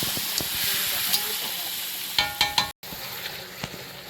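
Goat mutton frying in hot oil with cumin and bay leaf, stirred steadily: a dense continuous sizzle with a few sharp clanks of the spoon against the pan near the middle, then a brief cut before the sizzle resumes.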